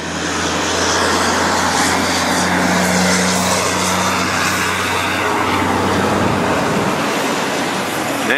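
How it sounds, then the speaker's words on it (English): Heavy 18-wheeler trucks roar past a car lot on a nearby road, a loud steady rumble that swells and holds for several seconds before fading, with no one talking. "when those 18-wheelers drive by me here, they sure are loud"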